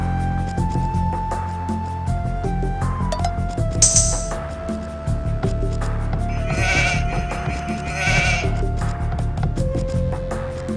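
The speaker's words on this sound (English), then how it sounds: "villagers can herd sheep or hunt deer for food" Sheep bleat in Age of Empires 2 over steady game music, with a couple of short bleats standing out clearly around the middle and a brief higher cry earlier, heard alone without talk.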